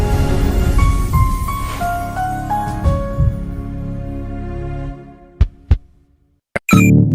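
Heartbeat sound effect in a radio ad for a children's heart foundation campaign: a few deep, isolated thumps near the end, following a sustained musical tone, with no talk.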